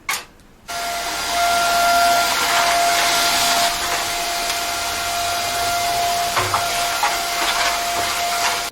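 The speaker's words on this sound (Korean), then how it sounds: "청소기." A vacuum cleaner switches on after a brief sharp start and runs with a loud, continuous close whine and rushing airflow, its pitch shifting slightly as it moves, with bumps of handling near the end.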